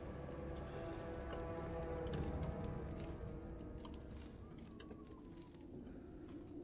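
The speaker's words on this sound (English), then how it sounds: "You can hear the footsteps, true." Slow, heavy footsteps of an enemy stalking through Resident Evil Village, thudding at an even pace beneath a low droning ambience with a faint steady whine. No one speaks.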